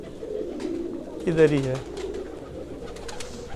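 Rampuri pigeons coo once in a loft, a short throaty burst rising over steady background murmur, with someone speaking nearby.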